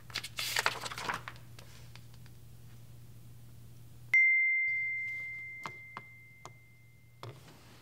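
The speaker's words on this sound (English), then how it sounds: "I think your phone went off." A mobile phone notification ding sounds once midway, a single clear tone that rings out and slowly fades over quiet room noise, with some crinkling before it.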